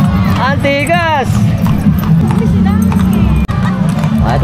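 Horses clip-clopping loudly along a procession for a religious feast, a quick rhythmic hoof clatter up close under excited talking from the crowd.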